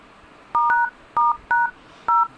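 A OnePlus phone keypad sounds five short, loud dual-tone beeps while a secret code is dialed, spaced in an uneven rhythm with quiet gaps between presses and no voices.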